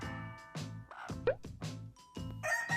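A hen being held clucks repeatedly in short, low, throaty bursts, close by, with a few higher squawks mixed in.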